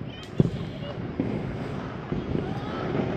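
Firecrackers bursting during Diwali celebrations on a terrace, with a few sharp bangs standing out over steady wind and crowd noise, some blasts nearer and others more distant.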